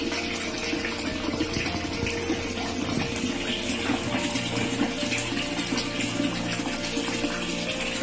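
Water runs steadily from a tap while dishes are washed inside a small boarding-house bathroom, a continuous close splashing rush that carries on through the whole stretch with faint clinks underneath.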